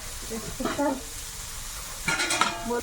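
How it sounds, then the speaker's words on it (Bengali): Banana slices fry in oil in a home kitchen with a low steady sizzle, while two short bursts of talk come in near the start and end. "মাছ ভাজা হয়ে গেছে কলা ভাজা হচ্ছে"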